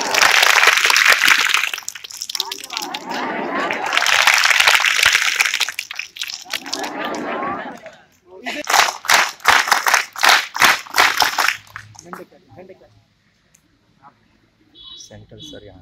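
Audience at a school event in a college in Pratapgarh applauding for a teacher, dense bursts of clapping in several waves with a rhythmic patter near the middle, mixed with someone speaking over a loudspeaker, fading near the end.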